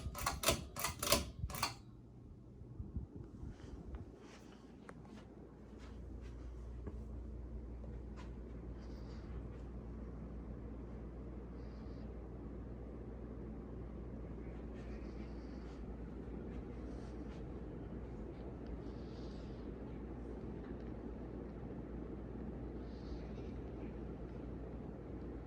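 A 52-inch Seagull Lighting Celebrity Deluxe ceiling fan runs on high after a few sharp clicks of the pull chain, settling into a steady low whoosh and hum with faint rattles.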